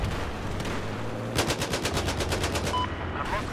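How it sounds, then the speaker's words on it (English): Gunfire in the video game Battlefield 4: a loud, rapid automatic burst of evenly spaced shots rattles out mid-way, over a constant battlefield din with a voice heard briefly. "We're getting shot at from different angles."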